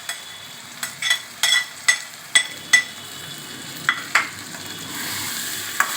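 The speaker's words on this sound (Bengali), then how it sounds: "এবার আমি কিছুটা কাঁচা লঙ্কা আমি দিয়ে দিলাম দিয়ে এবার যে ভাজাগুলো করে রেখেছিলাম এগুলো আমি ওর মধ্যে ঢেলে দিলাম" Green chillies and fried pieces for a mushroom curry go into a hot pan and are stirred, giving a series of sharp spatula scrapes and knocks over a soft, steady sizzle.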